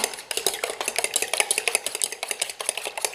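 Cake batter for a birthday cake is stirred briskly in a bowl, with a close, rapid series of clicking and scraping strokes in a quick, uneven rhythm, and no talking.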